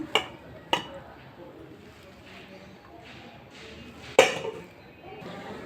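Rice is served onto a plate with a few sharp clinks of a utensil against dishware, three distinct metallic taps spread out over faint kitchen background noise.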